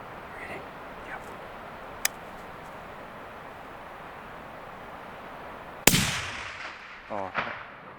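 A single sharp, loud rifle report during a deer hunt, standing alone after a quiet stretch, with a decaying tail and a brief voice that follows.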